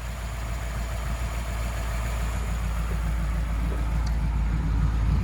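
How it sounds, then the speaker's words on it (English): A 1939 Ford Deluxe Coupe flathead engine with synced twin carburetors idles smoothly, a steady, close, low rumbling beat with no talk over it. "Yeah, really runs nice, idles nice."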